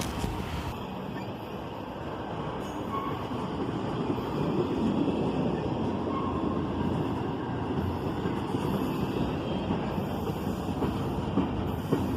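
A CSX intermodal freight train rolls past close by, its steady broadband rumble and wheel noise holding for the whole stretch without pause, loud and continuous with no talking.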